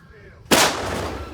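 A single heavy tank cannon blast bursts out suddenly after a quiet stretch, followed by a long rumbling roar that slowly fades.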